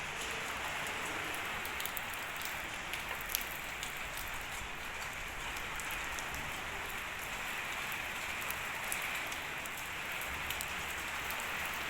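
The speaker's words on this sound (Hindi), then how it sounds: "बाहर मैंने खिड़की से देखा है तो बारिश हो रही है" Heavy rain pours steadily outdoors in Murree, a dense continuous hiss of drops striking surfaces at close range, unbroken and even in loudness throughout with no voices.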